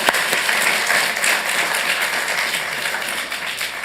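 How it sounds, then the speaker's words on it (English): A dense, loud wash of audience applause fills a Santa Ana city council meeting, with many hands clapping at once. "Let's give her a round of applause."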